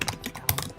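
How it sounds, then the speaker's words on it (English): Rapid typing on a computer keyboard, a quick irregular flurry of close, crisp key clicks in under a second. "Typing furiously."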